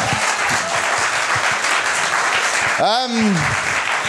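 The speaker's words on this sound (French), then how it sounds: "Bravo à Léo. On peut l'applaudir encore." Audience at a televised gala finale applauding a speaker named Léo, sustained dense clapping from a large crowd, with a voice speaking briefly over it near the end.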